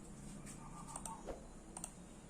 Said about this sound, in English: Here you need to type yes.